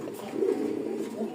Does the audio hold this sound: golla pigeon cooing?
yes